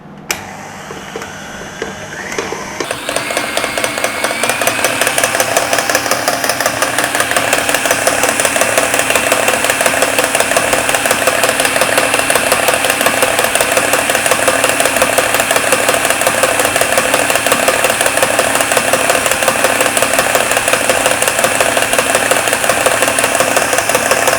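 A stand mixer with a paddle beats vanilla butter cake batter on medium-high speed, its motor kicking in after a few quiet seconds and then whirring loudly and steadily, close by, with a faint rhythmic churn and no talking.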